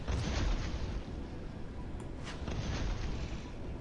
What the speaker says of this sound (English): We're speculating that explosions could put out a fire.